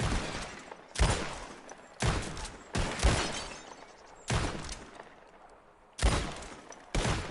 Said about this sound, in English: Who can shoot the most bottles?